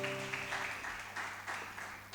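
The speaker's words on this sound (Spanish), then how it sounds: "Vamos a darle un aplauso grande al Señor." Church congregation applauding during a worship service, a soft, steady wash of clapping with a faint sustained musical tone beneath, continuous and fairly distant.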